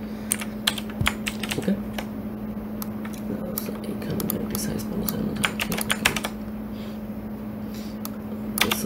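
Java code is typed on a computer keyboard, with quick irregular bursts of close key clatter over a steady low hum, and a short spoken word near the start.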